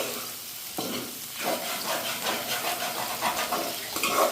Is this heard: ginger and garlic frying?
yes